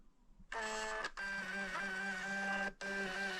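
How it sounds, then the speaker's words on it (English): A Fomamo Bluetooth label printer runs in two close bursts of steady mechanical whirring and buzzing, with a brief pause between them, heard alone and up close. "this Fomamo Bluetooth printer. And all I've got to do now is ask it to print the label."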